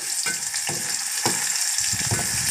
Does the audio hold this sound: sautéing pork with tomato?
yes